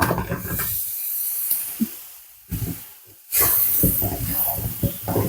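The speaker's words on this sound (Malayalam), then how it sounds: "ഒരു ശകലം വിനാഗിരി ഒഴിച്ചു ഇനിയിപ്പം നമ്മുടെ മാങ്ങയില്ലേ അതിനെ അങ്ങോട്ട് കുടങ്ങിടുക" Vinegar and tender mango pieces poured into hot oil for pickle set off loud bursts of hissing and sizzling nearby, with a brief quieter gap between surges.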